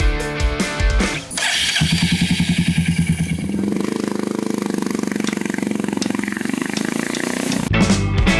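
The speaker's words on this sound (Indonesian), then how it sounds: "Bro Rizky, gue penasaran banget nih mau test ride motor lu." A Royal Enfield Meteor 350 motorcycle starts up with a cough, then settles into a loud, close, steady single-cylinder thump that keeps going through a test ride.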